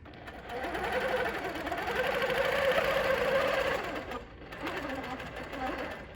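A sewing machine stitches a quilt guided by a ruler, running steadily and fairly loud for about four seconds, pausing briefly, then starting again.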